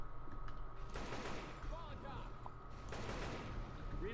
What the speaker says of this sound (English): I just shot you in the arse about 10 times.